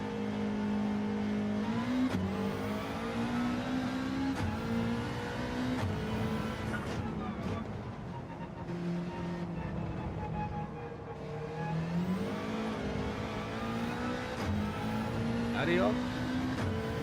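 A Ford Mustang's engine drones while driving, revs rising and falling through several gear changes over a steady road rumble, with people talking inside the car.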